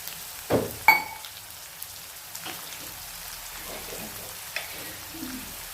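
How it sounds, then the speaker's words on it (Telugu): Onion and green chilli fry in a pan for a tamarind-leaf curry, giving a soft, steady crackling sizzle, preceded by a couple of sharp utensil knocks against the pan. "మంచిగా లైట్ గోల్డ్ కలర్ వచ్చే వరకు వేయించుకుందాం"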